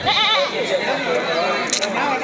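Goats bleat at the Kalitala livestock market on a rainy day, with several wavering calls close by near the start, mixed into steady crowd chatter and talk.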